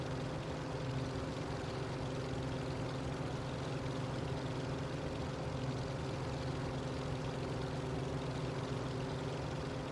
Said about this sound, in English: I'm hearing the radial engine notes in the engine sounds there